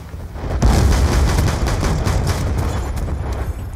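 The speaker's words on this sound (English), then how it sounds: "Pistol shoots RPG missiles." A pistol firing RPG missiles in Black Ops 2 Roll The Dice mode, heard as loud booming blasts with rolling explosive rumble that carries on without a break, and no talking.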